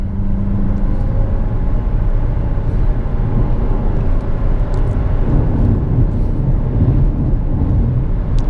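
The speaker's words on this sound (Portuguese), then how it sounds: "E troca a marcha lá na faixa vermelha já de giros" A Jeep Compass Longitude diesel 4x4 engine pulling hard toward the redline, a loud continuous low drone that stays steady throughout, heard from inside the car.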